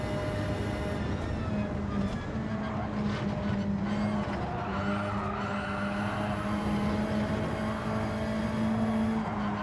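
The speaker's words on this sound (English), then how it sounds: "Will's car just starting to screech a little bit on the tyres there." Race car in the Gran Turismo 7 video game, engine droning steadily with a sustained high tyre squeal running over it, loud and continuous throughout with no talk.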